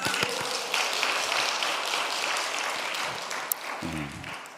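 Applause from a congregation during a Wednesday church service sermon, a dense wash of clapping held steady for several seconds at moderate distance, with no speech over it.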